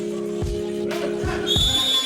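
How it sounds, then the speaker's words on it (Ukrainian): A referee's whistle at a RoboCup robot football match in Kyiv sounds as a sustained, clear whistle blast rising late in the clip, over steady background noise and a few low thumps. "І тут уже лунає свисток арбітра."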